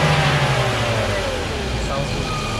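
A BMW E36 engine with a mechanical throttle is revved up close: the pitch climbs sharply, then drops back toward a low idle, loud and clear.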